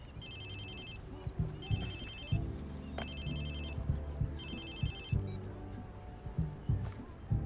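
A telephone rings in the Watch Dogs 2 video game, its repeated electronic ring bursts sounding at regular intervals over background music and ambient noise.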